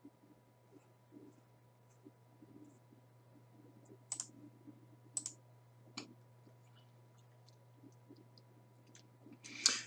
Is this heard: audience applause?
no